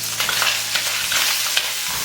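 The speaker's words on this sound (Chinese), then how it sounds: "接着把鱿鱼放进来翻炒" Squid and pork belly stir-fry in hot oil, giving a continuous loud sizzle broken by repeated scraping and tossing strokes, with no voices.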